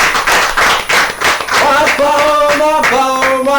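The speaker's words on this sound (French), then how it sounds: "Allez, applaudissements pour lui." Audience clapping breaks out for a performer at a concert, dense and loud for the first half, then thinning as sustained musical tones enter and carry the rest.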